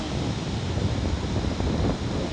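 Sea waves washing onto a beach at high tide, a steady broadband rush of surf mixed with wind noise on the microphone, continuous and fairly loud with no talking.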